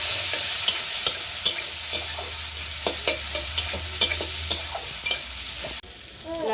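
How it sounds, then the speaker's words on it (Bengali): Onions hiss and crackle as they fry in hot oil in a village kitchen, a steady close sizzle broken by repeated sharp clicks of a utensil stirring through the pan, ending abruptly. "গরম হয়ে গেছে, এবার পেঁয়াজ দেবো।"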